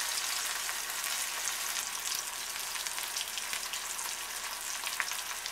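Garlic, tomatoes and patty pan squash fry in a pan, giving off a steady, even sizzle and crackle with no one talking.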